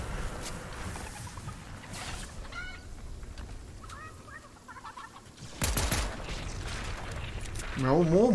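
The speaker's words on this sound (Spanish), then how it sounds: "¡Maldita gallina!" A chicken clucks in the Fortnite video game, with short clucking bursts standing out over a busy game background and louder bursts near the end.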